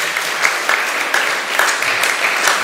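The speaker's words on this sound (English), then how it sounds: "Let's give him a round of applause." Steady audience applause at a mentorship session, dense and continuous with a few louder claps standing out, sustained at close range for the whole stretch.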